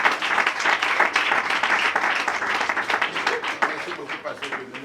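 Wedding guests at a church nuptial blessing applaud and cheer as the pastor steps forward, a dense, continuous wash of clapping with voices mixed in throughout.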